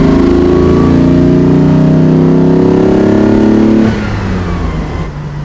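A 1960 Mercedes 300 SL Roadster engine revs hard and close, a loud rising harmonic roar that holds, then drops off sharply as the throttle is released and settles to a lower idle.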